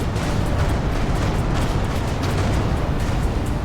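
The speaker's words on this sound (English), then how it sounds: "Vacate this area at once. Explosion imminent." A sustained, loud rumbling explosion roars without a break in the space game Everspace 2, a dense low blast texture with no talk over it.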